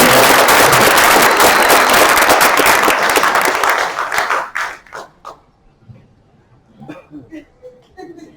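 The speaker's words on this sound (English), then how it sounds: "one more round of applause for them" Graduation audience at a recovery center applauding, loud dense clapping for about four seconds that thins into scattered claps and fades, with a few voices afterward.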